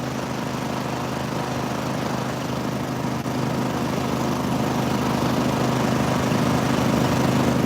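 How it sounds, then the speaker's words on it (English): A 40 horsepower lawnmower engine powers a boat on an old river channel, droning loudly and steadily with a low rumble that holds throughout, no voices over it. "It's a 40 horsepower lawnmower engine."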